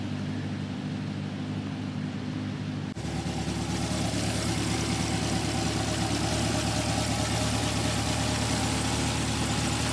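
A 2020 Chevrolet Corvette C8 Z51 with a 6.2-liter V8 idles with a low steady rumble that jumps to a louder, fuller drone partway through and holds there, without speech.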